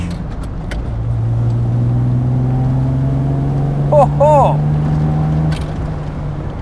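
Triumph TR6 sports car with a 2.5 litre straight-six engine driving along, a steady low engine drone heard from inside with a brief exclamation from a voice partway through.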